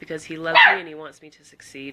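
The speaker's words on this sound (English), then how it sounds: "Sorry about the barking dog." A dog barks in the background, one short burst under a person speaking steadily indoors.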